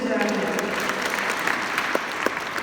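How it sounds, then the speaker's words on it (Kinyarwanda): A crowd at a children's church patronage celebration breaks into sustained applause, loud and close, with voices mixed in beneath the clapping. "Perezida amashyi cyane."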